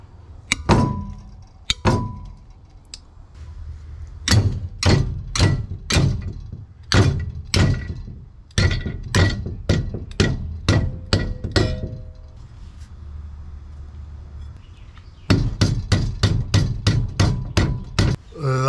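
A fire extinguisher swung like a mallet against metal brackets for an LS engine cooling system upgrade, sharp loud clanking thumps in rapid irregular bursts with short pauses between volleys.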